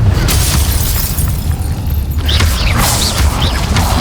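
An Incendio fire spell cast in Hogwarts Legacy, a continuous roaring, crackling whoosh of flame over a deep rumble. It stays loud and steady throughout, with faint whistling chirps toward the end.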